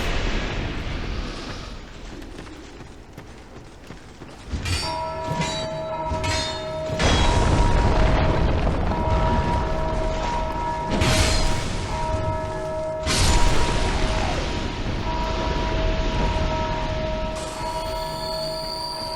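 An enemy in Dark Souls II strikes a bell over and over, each loud metallic clang leaving long ringing overtones that pile into a continuous clamor over the game's ambient rumble.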